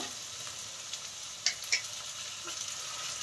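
Cashews fry gently in a pan with a soft, steady sizzle and a couple of brief clinks near the middle, quiet and close, with no talking.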